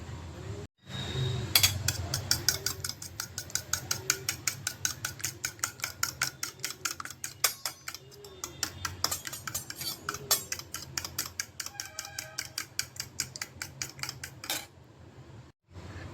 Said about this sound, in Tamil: ஒரு ஃபோர்க் வச்சு நல்லா 2ஐயும் கலந்துக்க போகிறோம்